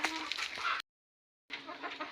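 Desi country chickens on a poultry farm cluck nearby in two short bursts separated by a brief silent gap, with no talk over them.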